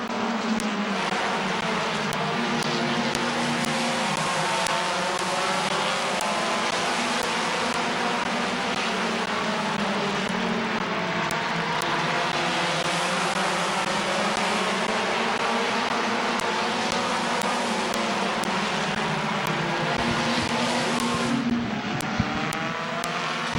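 Race cars lap Midvale Speedway in a continuous, loud engine roar with overlapping drones from several cars that rise and fall as they circle past.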